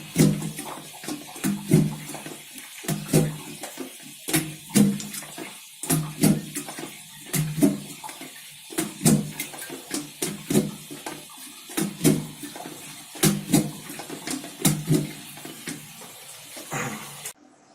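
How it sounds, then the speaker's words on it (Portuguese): A plunger is pumped repeatedly in a clogged toilet bowl, giving a steady series of wet thumps and sloshing gulps of water, roughly one every second, close and clear with no talk. "Agora a gente vai dando umas bombadas aqui com o desentupidor no vaso."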